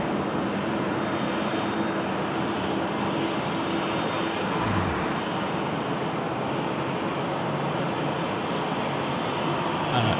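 A jet airliner begins its takeoff roll on the left runway at Sydney Airport, its engines producing a loud, steady, broadband roar that holds constant and heavy throughout at a distance.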